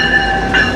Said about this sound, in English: Then I was getting on a train.